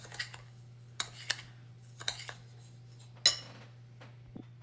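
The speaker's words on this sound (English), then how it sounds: "And we're just gonna mix all this together." Homemade bath salts are stirred in a bowl, giving a quiet run of scattered gritty scrapes and light clinks that includes one sharper knock, over a low steady hum.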